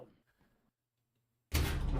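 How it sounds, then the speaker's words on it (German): A door opening in the game Evil Corporation, a sudden loud, harsh burst that starts abruptly after a stretch of near silence and a few faint murmurs, then holds steady and full. "Ich habe nur die Tür aufgemacht."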